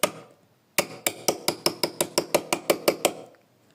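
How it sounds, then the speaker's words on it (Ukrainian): A hammer strikes a car's rear window glass: one sharp hit, a pause, then about a dozen fast, evenly spaced loud knocks close by. "хочу йому вибити задні скло"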